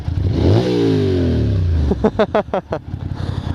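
A loud motorcycle engine revs up nearby, its pitch rising and falling, then gives several sharp throttle blips in a row.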